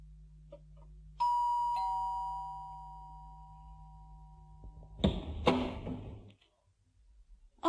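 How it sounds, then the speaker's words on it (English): A flat's doorbell rings with a sustained two-tone chime that fades, followed by the clatter of a door opening, heard close in a quiet room. "He went to Bill's flat and rang the doorbell."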